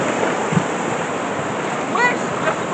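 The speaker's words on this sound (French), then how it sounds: "Je veux le bruit des vagues." Sea waves wash steadily along the shore in Venice as a constant broad rush with some wind, and a faint voice briefly rises over it partway through.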